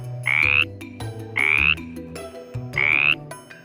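Frogs croak in a stream at night, three loud evenly spaced calls, each a short rising trill, over a steady low musical background.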